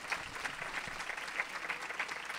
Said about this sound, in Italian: applauso senza aver detto niente